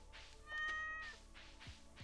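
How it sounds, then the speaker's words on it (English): A cat in the Stardew Valley video game meows when petted, a single short, clear mew heard up close with no talking. "And then we gotta pet the kitty"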